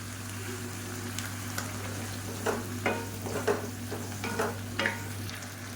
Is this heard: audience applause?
no